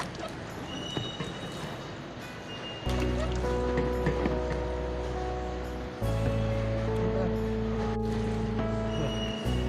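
Water poured over a body during ritual washing of the deceased, a steady splashing stream that starts abruptly, pauses briefly and resumes, with faint room noise before it begins.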